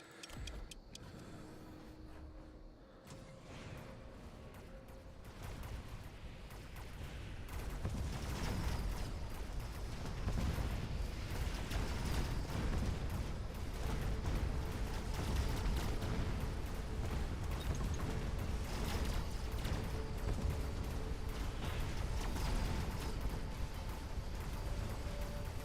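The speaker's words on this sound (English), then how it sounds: "Nice, he's doing a missile." Missile launch and explosions in a strategy video game, a dense sustained rumble that swells louder partway through and stays heavy, with no talking.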